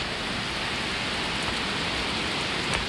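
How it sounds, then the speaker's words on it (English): Steady rain hisses evenly throughout, a dense constant patter with no voices. "It's raining."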